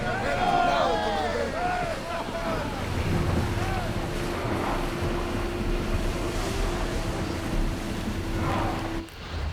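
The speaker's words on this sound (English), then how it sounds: "I have to travel by ship" A sailing ship moves across open sea in Assassin's Creed Odyssey, with steady wind, rushing waves and water wash running the whole time beneath chattering voices and a sustained drone.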